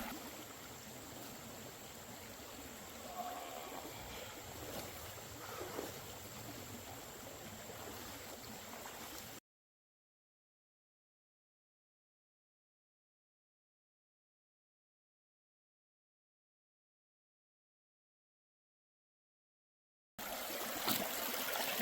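Fast-moving water rushes through a sluice box during gold prospecting, a steady close stream-like wash that runs about nine seconds, drops out entirely to silence for roughly eleven seconds, then resumes at the end.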